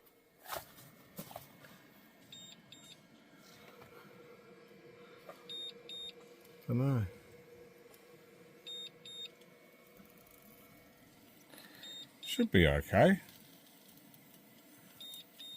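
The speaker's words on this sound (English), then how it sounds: "Well, it's buzzing for some reason. Who knows? I'll let it buzz. Or beep, I should say." Small electronic device beeping beside a creek during a lunch stop, giving short bursts of high beeps at spaced intervals among quiet outdoor sounds and footsteps, with someone speaking briefly.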